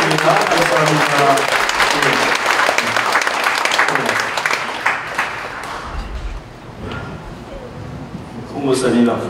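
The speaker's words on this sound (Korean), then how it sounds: "큰 박수로 축하합니다" A church congregation at a pastor's installation service applauds loudly for the new pastor, the dense clapping thinning out midway into scattered claps and murmured voices, then swelling briefly again near the end.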